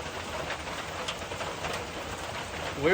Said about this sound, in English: This is rain bands that have been moving up from the Gulf